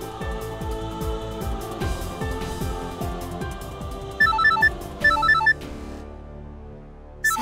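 A telephone rings in short repeated electronic bursts, several trills spaced apart, loud and close over a busy background of music or drama sound with no talk.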